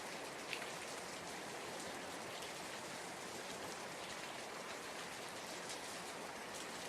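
Steady, even rain falling continuously, a dense soft patter that stays constant throughout, with no voices or other sounds.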